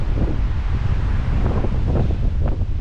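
Strong wind buffets the microphone high on a rocky mountain trail in the Smoky Mountains, a loud continuous roar with gusty swells and no voices.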